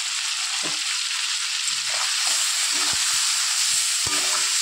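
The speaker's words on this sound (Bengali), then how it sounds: "চিংড়ি মাছ আমি হালকা করে ভেজে নেব।" Prawns fry lightly in oil with salt and turmeric, a steady loud sizzle and hiss throughout, broken by a few soft stirring scrapes and taps.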